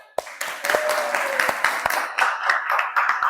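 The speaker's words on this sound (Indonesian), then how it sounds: "Tepuk tangan." Scattered classroom applause from students after a group discussion, a few sharp claps opening into uneven clapping, with a voice speaking over it.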